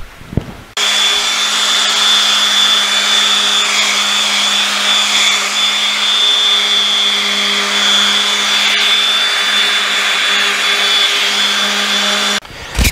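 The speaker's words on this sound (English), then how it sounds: "Now the sanding I'm doing is really just to clean up the surface" A power sander runs steadily and loudly on an oak rocking chair for about twelve seconds, a constant whirring drone with a high whine, starting and stopping abruptly.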